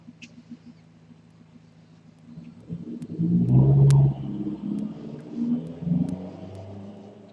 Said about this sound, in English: And that was a very loud car.